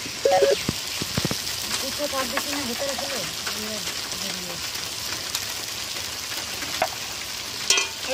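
Spiced ginger paste with salt and turmeric fries and sizzles in a pan for a young jackfruit curry, a steady close hiss with occasional stirring scrapes while a person talks over it.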